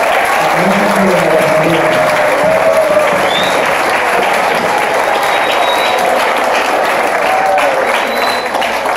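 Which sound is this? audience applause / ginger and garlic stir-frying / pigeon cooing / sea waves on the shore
audience applause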